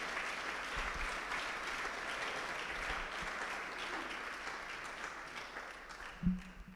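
A church congregation at a Sunday service claps together, a continuous fairly faint patter of hands from across the room that trails off, with a single bump near the end.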